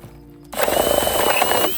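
A power drill whirs through a foam pumpkin in one short, close, loud burst of just over a second, with a faint rattle and no talk.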